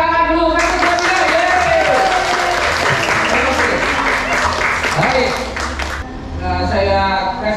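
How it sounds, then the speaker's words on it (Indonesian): Applause from the audience at a Christmas gathering of priests and nuns, dense steady clapping filling the room from start to finish, with a voice speaking over it near the end. "kita tepuk tangan dulu, kasih tepuk tangan."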